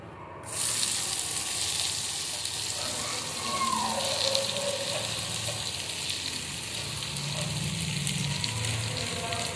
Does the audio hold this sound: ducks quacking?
no